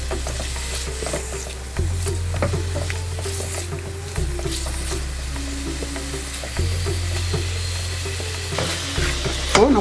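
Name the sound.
paneer cubes frying in oil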